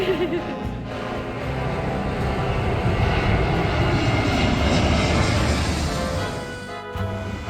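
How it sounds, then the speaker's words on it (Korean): A low-flying airplane roars overhead with a loud, sustained engine rumble that swells to a peak and fades slightly near the end, sounding like a fighter jet passing close by. "야, 진짜 전투기 같아."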